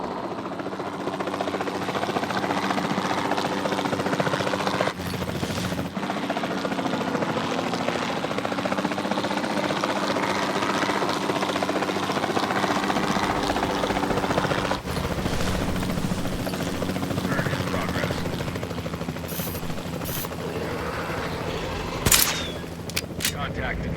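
A capture team helicopter in the video game Jurassic World Evolution 2 flies with a steady, loud rotor drone throughout, overlaid by sharp shot-like clicks near the end.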